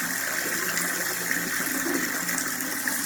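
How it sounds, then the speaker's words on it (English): Small working waterfall and river in a tabletop junkyard diorama, giving a steady, close trickle and gurgle of flowing water with no talk. "there is my daughter's working waterfall and river"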